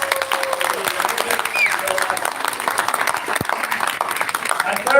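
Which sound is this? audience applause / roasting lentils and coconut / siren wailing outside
audience applause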